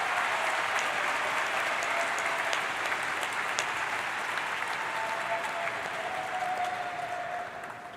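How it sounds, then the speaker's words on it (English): Sustained applause from a large audience at a high school commencement ceremony, a dense, even wash of many hands clapping that holds steady for several seconds and then begins to taper at the end, with no talking over it. "So please join me in giving them a round of applause."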